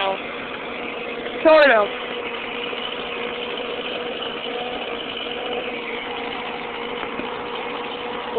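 A Ford 8N tractor engine idles steadily while warming up, a continuous mid-pitched drone with a brief louder blip early on, as people talk nearby.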